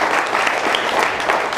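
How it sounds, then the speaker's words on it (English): A brief burst of audience applause at a political rally, dense and steady clapping from a crowd, loud and continuous with no voices standing out. "Give yourselves a round of applause"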